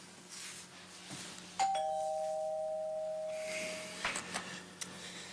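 A doorbell rings once indoors with a clear, sustained electronic tone that holds for a couple of seconds over a quiet room, followed by a few faint knocks and shuffles.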